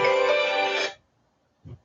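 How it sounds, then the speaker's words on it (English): A phone ringtone plays steadily for about a second, then cuts off, followed by a brief low thump. "Phone call."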